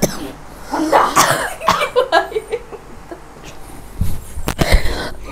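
Several harsh coughs burst out at close range, loud and irregular, mixed with breathy sounds and bits of talk in a household setting.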